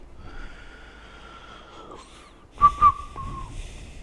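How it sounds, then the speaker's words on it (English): A person whistles close by: a long steady tone, then two sharp loud chirps and a falling note, with breathy snorting sounds around them. "Sorry for whistling in your ear."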